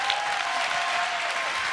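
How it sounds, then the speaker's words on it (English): Loud, dense applause from a seated audience at a motivational speaking event, sustained and even throughout. "Let's give him a tremendous round of applause"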